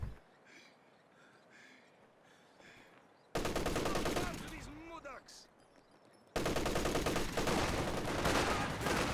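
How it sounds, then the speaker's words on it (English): A machine gun fires during a Company of Heroes 2 battle: a quieter stretch, then loud sustained bursts of rapid gunfire, with a voice talking over parts of it. "Oh, MG34,"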